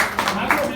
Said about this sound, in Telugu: ఒకసారి గట్టిగా క్లాప్ చేయొచ్చు